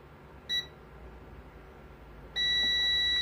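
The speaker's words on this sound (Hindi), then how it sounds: "देखिए बजर बज रहा है।" Buzzer on a voltage stabilizer's auto-cut relay circuit: a short high electronic beep, a pause of nearly two seconds, then a steady loud tone that continues without a break over a low electrical hum.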